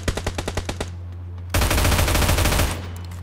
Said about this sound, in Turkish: Çatışma içerisindeyim ya.